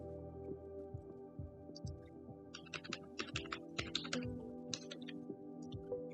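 Password being typed on a computer keyboard for an online registration form, a quick close run of soft key taps in bursts over a low steady hum, with no talk.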